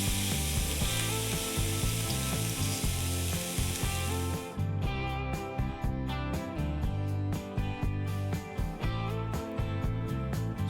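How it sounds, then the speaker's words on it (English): Herb-rubbed pork tenderloin sears in a hot pan with a loud, steady sizzle that runs continuously, brightest in the first few seconds and then settling over a tonal background. "put your pork tenderloin in the pan and let it sizzle, and you should hear that nice sizzle sound"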